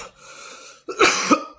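An adult man coughs loudly up close in a dry, rough burst after a brief breath, a coughing fit from heavy vaping.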